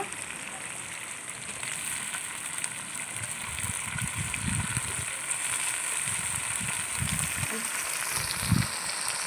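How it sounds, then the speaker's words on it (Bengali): Chopped tomato frying in hot oil for a spicy mutton curry, giving a steady, close sizzle that runs without a break, with a few soft low thumps from the pan. "হালকা ভেজে নেব। এখন আমি টমেটো কুচি দেব।"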